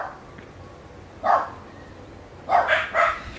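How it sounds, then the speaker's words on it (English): Several dogs bark outdoors in short bursts, one single bark followed by a quick cluster of two or three, moderately distant over steady background hiss. "They'll sit out here for 4 or 5 hours barking,"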